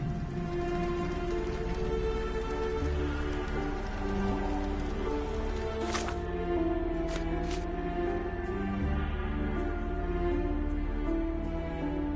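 Rain falling in the Sherlock Holmes: The Awakened video game, a constant dense patter with a steady low rumble underneath, alone and even in loudness from start to finish.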